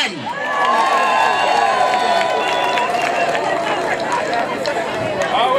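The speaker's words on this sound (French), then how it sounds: "Applaudissez pour vous les femmes." An audience at a political and artistic ceremony in Côte d'Ivoire cheers and shouts loudly for women, with sustained whoops, high voices and crowd noise filling the hall without let-up.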